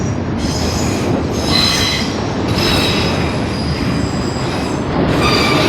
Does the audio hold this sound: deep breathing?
no